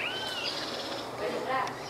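Wild birds in Mato Grosso, Brazil, call at dawn with overlapping chirps and whistles from mid distance, a steady natural chorus over low background noise.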